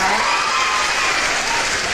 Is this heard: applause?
yes